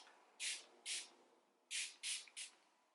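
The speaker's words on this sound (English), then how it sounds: "I'm gonna use the Farsali Rose Gold Skin Mist" Five short hissing bursts of Farsali Rose Gold Skin Mist sprayed at the face, two then three in quick succession, close and crisp with quiet gaps between.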